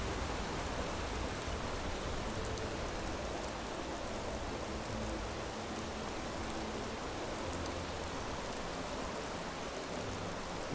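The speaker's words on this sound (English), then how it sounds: "Hopefully the rain will have let off as well." Steady rain falls continuously in the Enderal game, a dense, even hiss with no breaks or voices.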